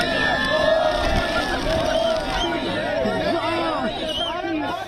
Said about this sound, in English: Adoring Indian crowds welcoming the Indian Prime Minister